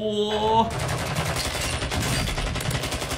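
Rapid automatic gunfire in Call of Duty: Warzone 2.0, a loud, steady machine-gun burst running for several seconds after a brief musical tone, close and dense.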